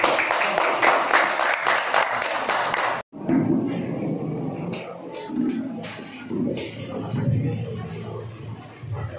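An audience at a poetry gathering in Moradabad claps loudly and steadily to welcome a poet to the stage, the burst cutting off abruptly, followed by shuffling, thumps and murmuring crowd noise.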